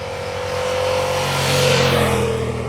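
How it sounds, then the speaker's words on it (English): A Yamaha MT-07 naked motorcycle engine revs loud and close, holding a steady throaty drone that swells and rises slightly in pitch midway before easing off. "the engine produces the nicest sound of all these bikes"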